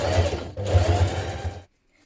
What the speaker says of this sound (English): Now top stitch around your collar.